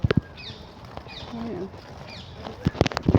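Wild birds outdoors give scattered short chirps and a brief cooing call over a noisy background, with a few sharp knocks and clatters toward the end.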